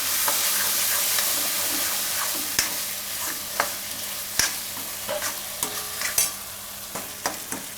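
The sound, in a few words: tomatoes frying and being stirred in a pan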